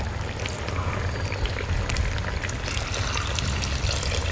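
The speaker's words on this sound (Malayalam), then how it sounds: "ഇനി നമുക്ക് ആദ്യത്തെ പാലൊഴിക്കും." Coconut milk, the first thick pressing, streams into a fish curry of murrel simmering in a clay pot, a soft continuous pour with faint liquid trickling, fairly quiet and alone.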